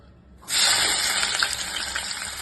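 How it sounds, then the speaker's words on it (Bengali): Onion dropped into hot oil in a wok bursts into a loud, sudden hiss after half a second of quiet, then keeps sizzling steadily at close range. "তো এবার তেল গরম হয়ে গেছে, এই অবস্থায় আমি পেঁয়াজটা ছেড়ে দিব"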